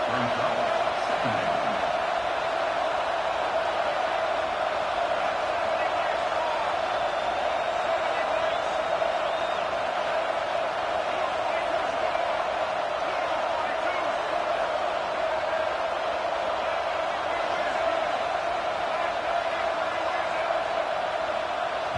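A football video game's stadium crowd roars in a steady, dense wash of noise that never lets up, loud and sustained from start to finish, with no talk over it.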